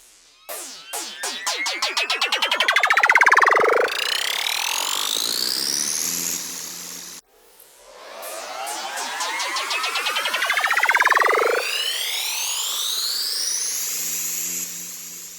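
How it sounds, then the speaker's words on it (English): Two rising synth riser sweeps from a Serum preset, each a swelling upward glide of layered tones that builds, then cuts off and holds a bright high sustain, the second starting after a short break; loud and alone. "So we can use riser 1 over here."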